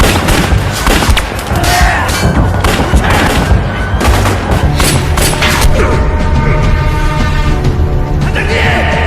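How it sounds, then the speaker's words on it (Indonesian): A gunfire shootout from a crime film about police and yakuza erupts as dense, loud overlapping shots and booms, with a narrating voice speaking over the fray. "Adegan saling tembak pun terjadi."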